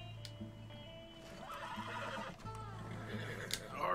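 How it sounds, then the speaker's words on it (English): A horse whinnies in the video game Red Dead Redemption II, with hoof clip-clops and other game sounds around it, heard at moderate volume against a busy background. "Hello, you're very nice horses."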